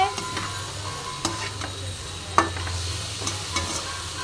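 Spinach being stir-fried in a pan with a little sugar added, a steady close sizzle with scraping stir strokes and a sharp clank partway through, no talk.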